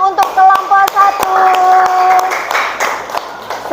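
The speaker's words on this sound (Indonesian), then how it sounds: "Tepuk tangan untuk kelompok 1." In a classroom, students clap for a group after its presentation in an Islamic studies lesson. Scattered, distinct claps ring out close by while children's voices talk and call over them, and the clapping thickens briefly toward the end.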